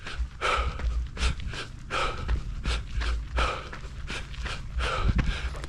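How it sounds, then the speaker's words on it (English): A runner breathes hard and rhythmically while going uphill, with quick repeated inhales and exhales close to the microphone and steady crunching underfoot, no talk. "So you can hear the difference in my breathing. It's a little bit more labored."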